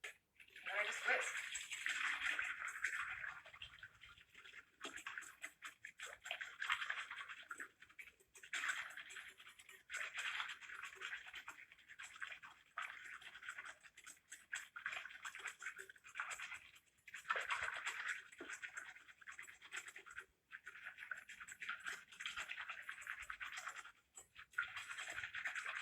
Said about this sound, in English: And I just whisk.